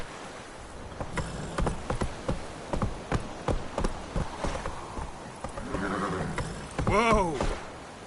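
Roach the horse galloping in The Witcher 3, a steady rhythm of close hoofbeats that runs throughout, with a neigh near the end.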